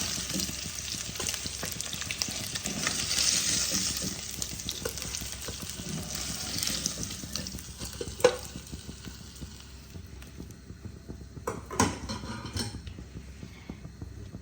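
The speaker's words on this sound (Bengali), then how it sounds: "আমি উল্টে পাল্টে ভালো করে ভেজে নেব। মাছগুলো দেখো আমার ভালোভাবে ভাজা হয়ে যাচ্ছে" Pieces of chitol fish fry in a pan and get turned over, making a steady close sizzle broken by a few sharp knocks and scrapes from the utensil, with no talking.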